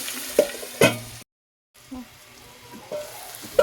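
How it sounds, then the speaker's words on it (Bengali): Sliced onion fries in a pan for a poppy-seed dish, with scattered stirring scrapes and taps over a faint sizzle and a short silent gap, close by and without voices. "এটা একটু ভেজে নিতে হবে পেঁয়াজটা"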